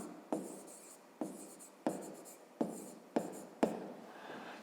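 Pen strokes on paper while working a fifth-grade math exercise, six distinct scratchy bursts at a steady pace, each a quick attack fading out, close and alone.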